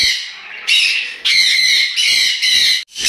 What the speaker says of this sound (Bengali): এখানে অনেকগুলো কোকাটেল পাখি আছে